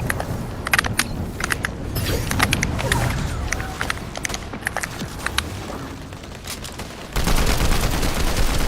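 Bursts of rapid gunfire from a random-weapons shooter video game ring out in repeated volleys, sharp cracks over a noisy mix that swells louder near the end.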